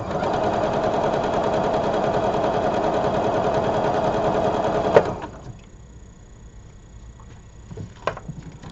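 A sewing machine stitching a quilt's mitred corners runs in a fast, steady whirring rattle up close for about five seconds, then stops abruptly, leaving quiet room noise and a few faint clicks.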